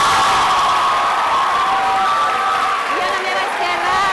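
A studio audience at a school spelling quiz show applauds and cheers the young contestants, loud and sustained, with shouts and whoops from children over continuous clapping.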